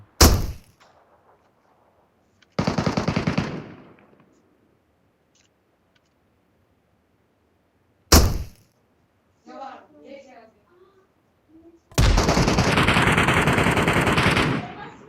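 Loud bursts of automatic gunfire in PUBG Metro Royale, a mobile battle royale game, come in several separate volleys with quiet gaps between them. Players talk briefly in one of the gaps.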